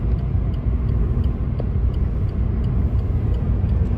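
A car driving on a highway in dense fog from Haridwar toward Noida: a steady low interior rumble of engine and road noise, continuous and close, with faint ticking on top.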